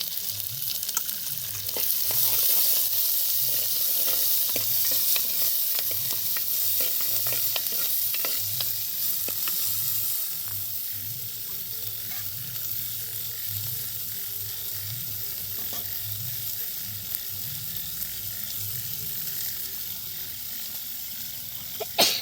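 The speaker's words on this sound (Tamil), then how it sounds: "தாலிக்கு சோம்பு சேர்த்துக்கிறேன் சோம்பு நல்லா பொரிஞ்சிருச்சு" Fennel seeds spluttering and frying in hot oil in a village kitchen, a steady loud sizzle with crackling pops that runs throughout and eases slightly in the second half.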